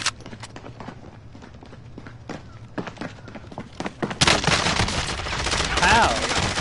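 Gunfire in the Modern Warfare video game: a few sharp, scattered shots early, then a dense, loud burst of rapid automatic fire that continues to the end, with faint voices underneath.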